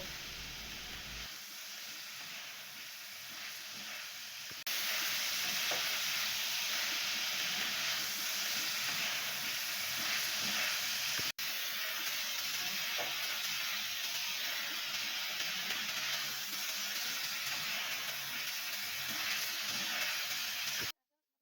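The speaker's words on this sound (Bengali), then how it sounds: "তো এখন আমরা একই তেলের মধ্যে দিয়ে দিব অনেকগুলো পেঁয়াজ" Chopped onions go into hot oil and fry with stirring, a soft steady hiss that starts quietly, then jumps up and holds evenly, fairly faint, with no voices.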